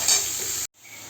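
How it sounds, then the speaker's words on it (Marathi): Chopped onion hitting hot oil with crackling mustard seeds, a dense close sizzle and stir that cuts off abruptly, then resumes as a softer frying hiss for a tiffin-style cauliflower, pea and potato dish. "मोहरी छान तडतडली की आपण यात घालणार आहोत बारीक चिरलेला कांदा।"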